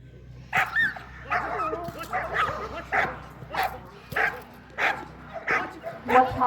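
Police K9 assault dogs bark repeatedly at a decoy during a demonstration, loud sharp barks in a quick uneven rhythm with a few whimpering yips between them.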